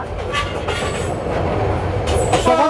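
A Paryatak Express passenger train on the Rajshahi to Cox's Bazar route runs steadily with a dense rumbling roar, wheels grinding and faint squeals rising toward the end, heard from on board at close range without speech.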